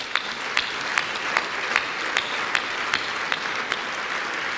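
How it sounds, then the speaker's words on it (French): A crowd at a New Year's greetings ceremony gives sustained applause, a full roar of clapping with sharper individual claps standing out at a steady rhythm. "je vous demande de les applaudir très très fort"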